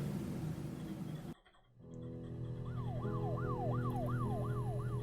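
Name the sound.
siren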